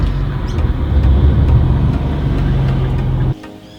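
A Nissan R35 GT-R drives along in comfort mode, its engine a steady, loud low hum heard from inside the cabin before cutting off abruptly near the end.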